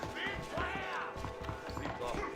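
Horse hooves clip-clop in Red Dead Redemption on Xbox 360, a quiet steady trotting rhythm of hoofbeats with game music tones layered over it.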